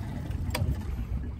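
Tracker Pro 170 boat's outboard engine running steadily on the water, a continuous low rumble at moderate level with a brief brighter burst partway through.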